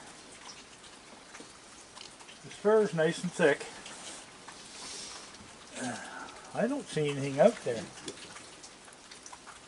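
Rain falls steadily through a foggy, pitch-black night, a soft continuous patter under a voice, which cuts in twice.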